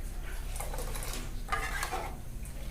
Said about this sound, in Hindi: इस तरीके से हम लोग इसे चलाते जाएंगे और अच्छे से बढ़िया पकाएंगे